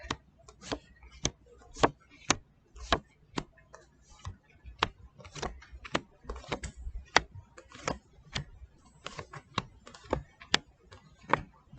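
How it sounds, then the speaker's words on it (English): Tarot cards laid out one after another onto a surface, a steady series of crisp, close taps and snaps with short gaps between them that continue throughout. "Let's lay out these cards."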